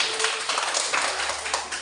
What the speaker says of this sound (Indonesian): kasih aplaus, tepuk tangan